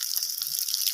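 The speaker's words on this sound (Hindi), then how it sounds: "तो अभी पानी डालती हूँ" Water being poured at a home in a Himalayan village, a steady, close splashing gush without pause.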